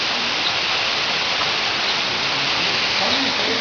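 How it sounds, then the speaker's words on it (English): A monsoon waterfall gives a constant, dense roar of falling water, loud and unbroken, with no other sound standing out. "The sound of water falling."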